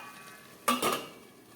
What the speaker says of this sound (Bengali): আমি গ্যাসটা বন্ধ করে এবার ঢাকা দিয়ে দিচ্ছি